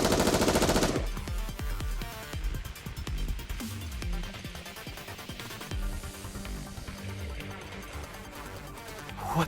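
Guns unload in sustained automatic bursts during a Goddess of Victory: Nikke cutscene. The loud, rattling fire runs steadily throughout, with a sharp blast at the start.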